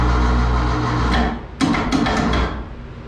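A 2-ton winch lowering a hanging raccoon carcass, producing a loud grinding mechanical rumble with rattling clanks, a short pause midway, then more knocking and rattling before easing off.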